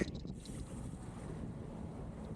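Constant blustery wind buffeting the microphone with a low, rumbling roar, no voices.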